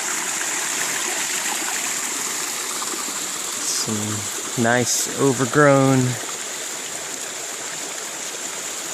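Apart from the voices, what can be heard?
small overgrown waterfalls near Eagle Creek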